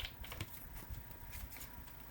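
A deck of playing cards being shuffled, a brief riffle followed by soft papery flutters and taps, close and steady over a low background hum, with no talking.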